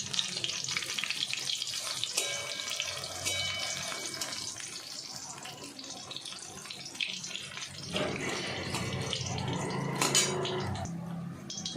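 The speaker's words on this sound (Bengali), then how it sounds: "আমি আর একটা ব্যাচও পকোড়া এখানে কড়ায় দিয়ে দিয়েছি।" Tomato pakoras frying in hot oil in a wok, a steady soft sizzle and bubbling with occasional clinks and stirring sounds, a louder splash of crackling toward the end.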